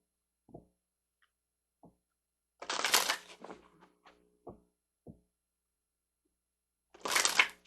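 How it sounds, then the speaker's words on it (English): Tarot cards being shuffled in two quick riffling bursts, close and quiet, separated by a few soft taps and thumps against a silent background. "So let's grab a couple of cards over here because we're going to use these cards."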